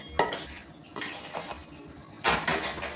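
Soaked chana dal mixed with other ingredients in a bowl, giving a few close clattering knocks and scrapes of utensil against the dish between quieter shuffling, with no talk.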